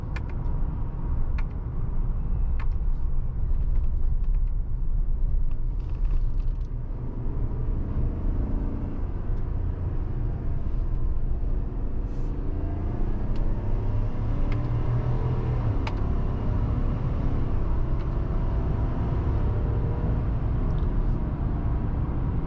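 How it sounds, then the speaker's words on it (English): Steady low engine rumble and road noise inside a 2022 Chevrolet Silverado 1500 LTZ while driving, with a shift in engine tone as it drops into low gear, heard from the cabin. "So we're going to shift this down into low gear and try out the paddle shifters."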